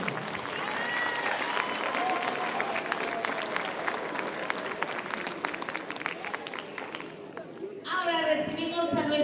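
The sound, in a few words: applause from the audience at a beauty pageant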